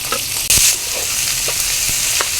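Sliced onions fry in hot oil with cumin, curry leaves and green chillies, giving a constant close sizzle with a few sharp stirring clicks and one brief louder burst, with no speech.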